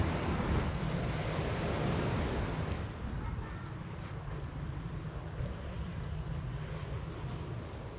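Sea waves wash in a broad, steady roar of surf that is loudest at first and then settles into a softer continuous rush, with wind noise mixed in and no voices.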